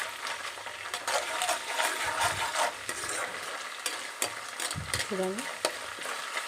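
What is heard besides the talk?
ginger paste frying in a pan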